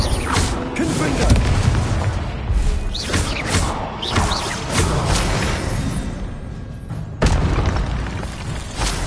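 Confringo spell blasts go off in the video game Hogwarts Legacy, several punchy booms and crashes in quick succession among game effects and spoken spell calls.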